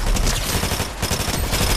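Loud, dense automatic gunfire in a video game, with rapid overlapping shots forming a continuous, harsh burst close by.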